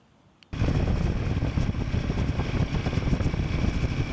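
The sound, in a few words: Royal Enfield Himalayan 450 motorcycle riding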